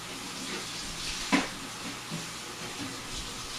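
Tap water runs steadily into a sink while a cake turntable is rinsed under it, giving a soft continuous splashing with a brief louder clatter partway through.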